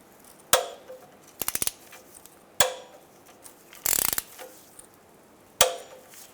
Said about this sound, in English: We're going to torque down our oil pan bolts to 17 foot-pounds.